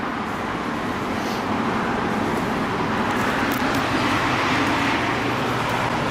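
Turbocharged Honda Civic with an eBay Rev9 turbo kit running on a dynamometer, a steady dense engine drone and roar held at a constant level for the whole stretch, loud and continuous with no talk over it.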